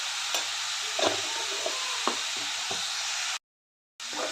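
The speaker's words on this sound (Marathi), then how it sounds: "सर्व मिक्स करून परतून घेऊया।" Radish is stirred and sautéed with spices in a pan. There is a soft, steady sizzle with a few light knocks of the spoon against the pan. The sound stops briefly near the end and then comes back.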